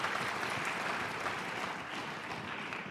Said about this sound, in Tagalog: Iyan ang pumalakpak mga tao rito.